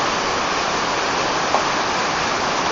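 The lower river below Wawa Dam rushes over big white rocks, a loud, steady, unbroken roar of flowing water with no voices.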